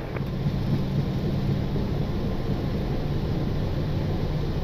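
An Icelandair Boeing 737 MAX on its takeoff roll down the runway, heard from inside the cockpit as a steady, dense engine roar and rushing rumble with a low droning hum underneath.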